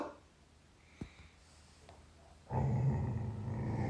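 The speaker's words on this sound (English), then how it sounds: "he likes to bark at people and unknown outdoor sounds" Mac, a dog, lets out a faint short snort, then a close, sustained rumbling growl that holds steady to the end.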